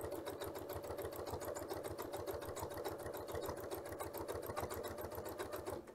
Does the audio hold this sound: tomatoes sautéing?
no